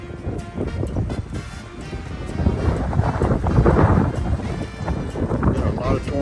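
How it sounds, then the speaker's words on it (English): Strong gusty wind buffets the microphone in rolling, roaring surges, loud and continuous with no speech. "Sure is windy today."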